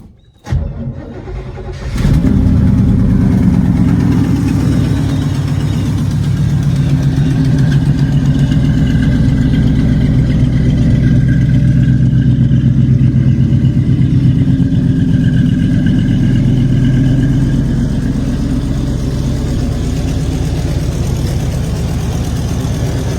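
A 1969 Chevrolet Chevelle 300 engine cranks and fires, then settles into a loud, steady, deep rumbling idle, close and continuous for over twenty seconds.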